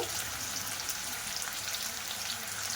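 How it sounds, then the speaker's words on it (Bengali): Thinly sliced potatoes fry in a pan with a little salt, giving off a continuous, even sizzle up close with no talking. "আলুটা এইভাবে ভাজা করে আলুটা গলিয়ে নেব"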